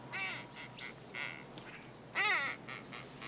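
A handheld duck call blown to imitate a duck, giving a series of nasal quacks in short bursts with one loud, longer quack near the end, close and clear with no voices.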